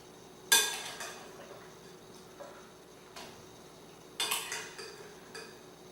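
A few clattering knocks of a casserole dish and utensils as chicken parmesan is layered into it, with sharp clinks near 0.5, 3.2 and 4.2 seconds and quiet pauses between.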